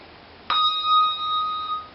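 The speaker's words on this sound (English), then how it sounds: "you damp a handbell to get rid of the sound" A handbell struck once, a sharp bright strike followed by a clear sustained ringing tone with overtones that holds steadily and is then damped.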